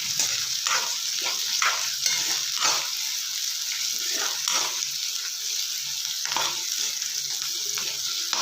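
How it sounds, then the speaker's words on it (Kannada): Onions frying in a pan, for a North Karnataka brinjal palya, give a constant loud sizzle broken by repeated rhythmic scraping strokes of a spatula, close and without speech. "ನೋಡಿ, ಇವಾಗ ಈರುಳ್ಳಿ ಚೆನ್ನಾಗಿ ಹುರಿದಾವೆ."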